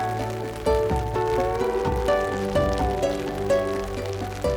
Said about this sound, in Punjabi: ਦੇਖੋ ਮੀਂਹ ਪੈ ਰਿਹਾ ਪਹਿਲਾਂ ਤੇ ਨੋਟ ਕਰੋ ਵੀ ਮੀਂਹ ਪੈ ਰਿਹਾ ਸਾਰੇ ਪਾਸੇ